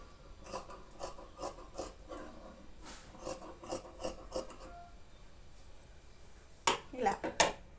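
Scissors cutting blouse lining fabric on reverse and cross grain, a run of soft rasping snips and rubs with a few sharper crisp cuts near the end, heard close up with no talk.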